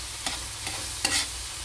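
Beans being sautéed and pressed in a pan with tofu and pork, a steady soft sizzle under three brief scraping stirs of the spatula; no talking.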